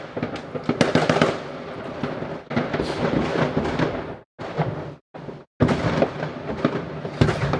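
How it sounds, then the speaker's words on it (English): Fireworks burst outside on New Year's Eve in dense, loud volleys of cracks and booms, with rapid crackling runs that pause briefly before erupting again. "And Awkward Turtle, there you have your kabooms."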